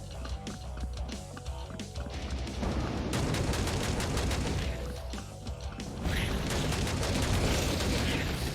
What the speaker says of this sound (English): just a regular shotgun, but with that rate of fire